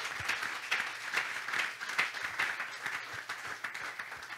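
A church congregation applauds and claps together in worship acclaiming God, a steady, dense wash of many hands lasting throughout without pause.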